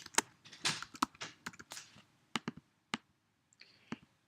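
Quick bursts of typing on a computer keyboard, close crisp key clicks in an uneven rhythm followed by a few scattered taps, quiet room with no talking.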